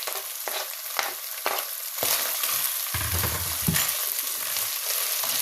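Fried meat filling with herbs for blinchiki being stirred in a hot pan, a continuous close sizzle broken by repeated scraping strokes of the spoon, with no talk.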